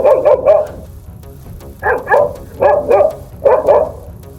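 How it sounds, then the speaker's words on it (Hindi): A dog barks repeatedly nearby, loud clusters of two or three sharp barks separated by short pauses, with no speech. "ये जो कुत्ता है ना, ये हमें रीडिंग नहीं करने दे रहा।"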